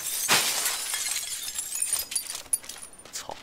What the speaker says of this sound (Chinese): 我开枪，我把这玻璃打了